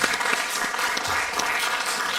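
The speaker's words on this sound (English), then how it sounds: "let's go ahead and give him a round of applause" An audience applauds steadily for Brother Ena at his send-off event, a dense, even wash of clapping that holds at constant loudness throughout with no voices.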